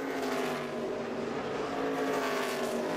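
NASCAR Sprint Cup race cars roar around New Hampshire Motor Speedway in 2011, a steady, loud blend of engines with no voices over it.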